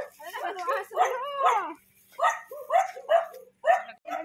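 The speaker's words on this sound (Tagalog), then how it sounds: "Ang daming aso." Several dogs barking in short bursts at a home visit, fairly close, with excited people talking over and between the barks.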